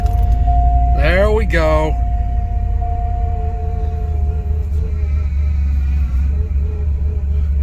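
A Cadillac DeVille running after sitting unused for seven months, its engine a loud, steady low rumble close by with a whining tone on top, while someone briefly speaks over it.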